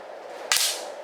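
A single sharp crack of an air rifle firing its last shot at a target, a short close report over a quiet hiss of background room noise.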